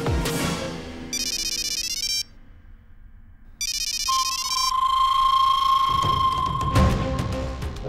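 A phone ringtone plays loudly and alone, an electronic melody in short repeated bursts with a pause between them, followed by a sustained tone.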